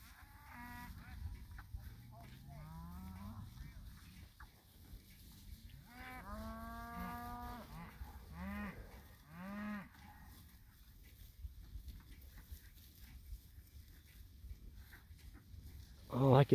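Cattle out at pasture on a quiet farm, with several deep drawn-out moos and bellows of rising pitch in the first ten seconds, then soft rustling as the herd grazes, faint and at middle distance.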